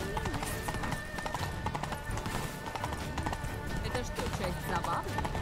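Hooves clatter at a gallop in The Witcher 3 as a horse runs through a busy scene, with a whinny in the mix, steady and fairly loud alongside game music and voices.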